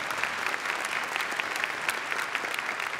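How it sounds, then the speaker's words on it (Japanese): Steady, dense applause from a large crowd at an international real estate trade fair opening in Tokyo, welcoming the Tokyo governor; continuous and even throughout with no voices standing out. "皆様拍手でお迎えください"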